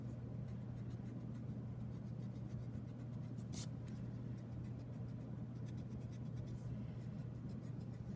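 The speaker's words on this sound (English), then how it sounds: "I'm going to erase my post that's within my railing." Quiet, steady rubbing of an eraser on paper removing pencil lines from a perspective drawing of a fence, faint and continuous over a low constant hum, with one brief sharper scrape midway.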